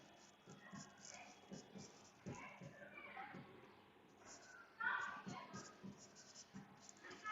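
Chalk or marker scratching on a board during a physics lecture, soft intermittent strokes and taps in short bursts, fairly faint with room noise and occasional speech around it.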